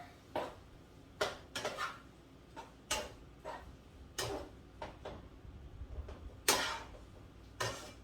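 A spoon stirs Jamaican turn cornmeal in a pot, giving a run of sharp clinks and scrapes in an uneven rhythm over a faint background hiss, with no talking.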